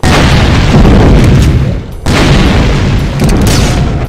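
In a Doom mod, heavy explosions go off in a loud, near, booming pair, each a deep roaring blast that trails away in rumble before the next one hits.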